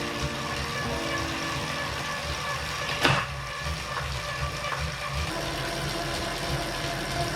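An Elite Direto smart trainer runs with a steady, engine-like mechanical hum, a near and even drone broken by a single brief knock or thump partway through, with no voices.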